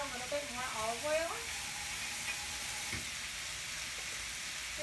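Food sizzling steadily in olive oil in a pan during salmon dinner prep, a faint continuous frying hiss with a brief voice-like tone early on.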